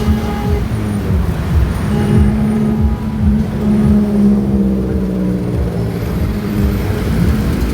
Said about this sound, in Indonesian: kendaraan motor atau mobil yang melintas sekitar Pasar Tumpah